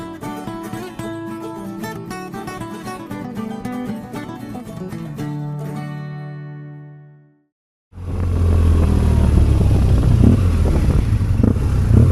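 Motorcycle ride toward the Alps: after several seconds of music that fades to silence, a loud steady engine roar and wind rumble take over, continuous and close.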